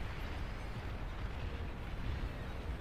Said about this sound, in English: Red joining in on the fun there with a bombing run